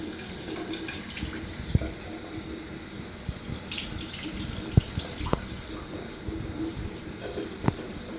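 A tap runs steadily into a sink during a shave rinse, a close, continuous splashing wash with occasional small drips and clinks over it, no voices.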